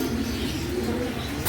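Pigeons in a Bengali loft, including a big round yellow pair, coo in low continuous murmurs that are close and fairly steady throughout, with no voices over them.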